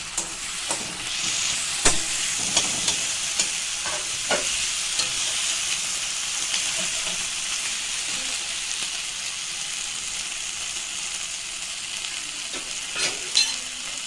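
Ginger, garlic and chilli paste with tomato sautéing in hot oil in a home kitchen, a steady close sizzle with scattered clicks of stirring and spoon taps throughout.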